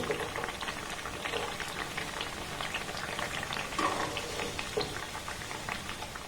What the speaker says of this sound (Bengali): একইভাবে অবশিষ্ট মিষ্টিগুলোকে ভেজে নেব